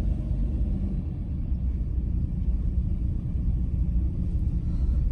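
Car cruising along Mount Olympus Drive in the Hollywood Hills, a steady low road rumble and engine drone heard from inside the cabin with no talk.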